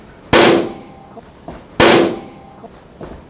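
A gun is fired at a rabbit outdoors: two loud, sharp blasts about one and a half seconds apart, each trailing off in a fading echo.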